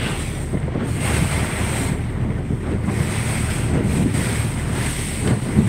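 Strong, steady squall wind buffets the microphone with a constant roar over the Anadyr Estuary in Chukotka, mixed with the rush of choppy water and waves up to a metre high.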